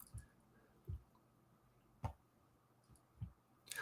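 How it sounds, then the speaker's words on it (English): A computer keyboard is typed on during a chat session, with sparse, quiet individual key clicks spaced about a second apart and faint room noise between them. "Sorry if my keyboard is loud."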